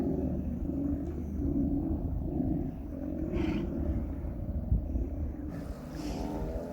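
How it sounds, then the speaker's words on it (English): Wild animals growl in a low, continuous, lion-like rumble outdoors on Vancouver Island, steady and fairly close, with a few brief higher rasps breaking through the deep throaty roar. "They do sound like a lion. Oh, it's amazing how they growl"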